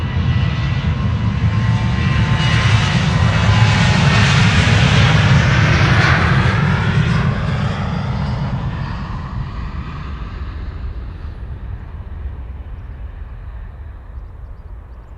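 A KLM Boeing 737-800 departs Amsterdam Schiphol for Helsinki with a loud, close jet roar that swells to a peak and then slowly fades as the aircraft climbs away.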